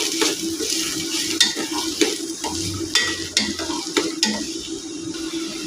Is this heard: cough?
no